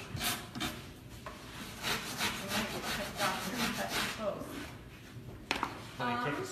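Rhythmic scratchy rubbing strokes of sanding, steady back-and-forth, close up, with someone talking over it.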